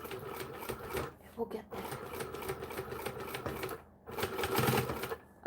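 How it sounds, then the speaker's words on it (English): A sewing machine top-stitches a fabric possum pouch, running in a close, steady mechanical whir that pauses briefly before starting again, under someone speaking. "So then we're going to top stitch"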